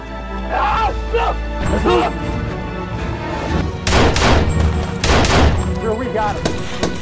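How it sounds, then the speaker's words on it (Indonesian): Gunfire in an action film execution scene: several sharp bursts of shots ring out amid music and tense scoring, with heavier volleys toward the end. "Dari atas bukit terlihat Daniel akan dieksekusi mati dengan cara ditembak."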